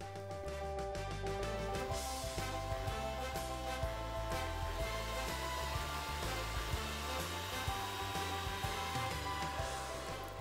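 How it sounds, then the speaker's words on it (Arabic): Electric hand mixer beating eggs with white sugar, a steady loud motor whir that runs unbroken from start to end, close up with no talk. "بمضرب الكهرباء."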